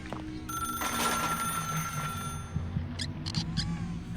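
A telephone rings in a Doom mod game: a sustained electronic ring tone with shrill bell-like pulses, then a few short repeated rings over a low droning game ambience.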